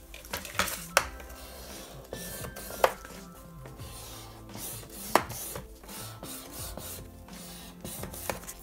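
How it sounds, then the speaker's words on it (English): A scoring tool dragging along fold lines on a paper envelope, with soft rubbing scrapes and a few sharp ticks and taps, close and quiet with no talk. "the next step is to score these lines so I can fold the envelope"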